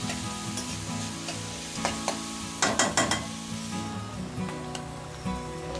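Finely chopped ingredients frying in a kadai for dhaba-style mixed dal tarka, with a steady sizzle broken by a burst of scraping spatula strokes midway, close and without voices.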